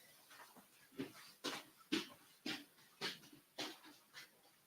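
A puppy whimpers excitedly in a run of about seven short, rising whines and breathy yelps, close and fairly quiet, with no talking over them.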